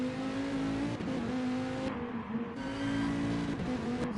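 A Viper GT Le Mans race car's engine in a racing video game drones at a steady high pitch, with small shifts in revs and a brief dip, continuous and fairly loud throughout.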